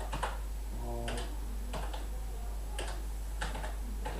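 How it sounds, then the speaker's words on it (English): Typing on a computer keyboard, several short bursts of key clicks spaced about a second apart over a steady electrical hum, close and clear with no voices. "So I'm just going to type in firewall here."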